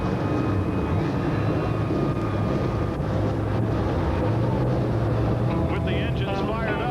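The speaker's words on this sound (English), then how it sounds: "With the engines fired up, we're getting ready to fire up the action here for the Hawkeye Downs 300." Race car engines idle and rumble at Hawkeye Downs before the 1995 ASA AC-Delco Challenge Series 300, a continuous low mechanical drone with some rising whine near the end, under an announcer talking.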